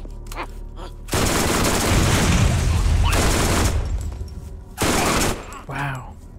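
Bursts of rapid gunfire in Borderlands as a player shoots a suicide zombie, two loud sustained volleys with quieter game sounds between them and a voice talking faintly underneath.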